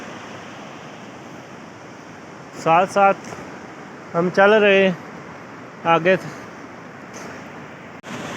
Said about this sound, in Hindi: दरिया की लहरें तको जनाब कितने पलक छपक के लहरें लगा रहा है, उछल कूद रहा है दरिया नीलम